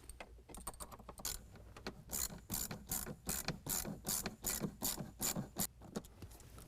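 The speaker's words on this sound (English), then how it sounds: "we can go ahead and tighten down that band clamp using an 8mm" A ratchet fitted with an 8mm socket tightens a band clamp on the air intake hose of a cold air intake for a 2022 Chevy Silverado 1500 6.2L V8, giving a steady run of close, rapid mechanical clicks.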